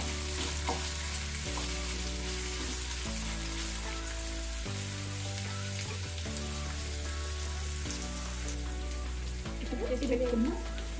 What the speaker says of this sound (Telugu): అల్లం కూడా కొంచెం పచ్చి వాసన పోయే వరకు వేయించుకోవాలి.